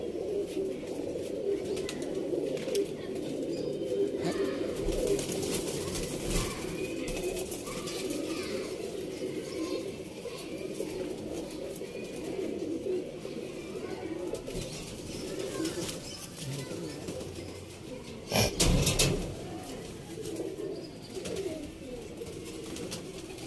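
Pigeons in a loft give low, continuous cooing that runs steadily throughout, with occasional wing flaps and a brief louder flutter near the end.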